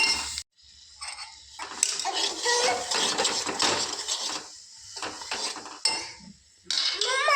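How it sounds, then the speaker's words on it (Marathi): Melted jaggery and ginger being stirred in a pan: busy, close clinking and scraping of a utensil against the metal, continuous with brief pauses and no talking. "सगळा आलं आणि गुळ चांगला मिक्स करून घ्यायचा"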